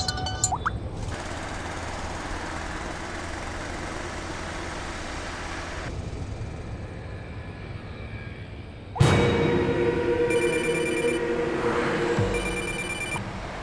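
A phone rings inside a car during a drive, its electronic ring repeating in short bursts over a constant engine and road rumble, with no one speaking.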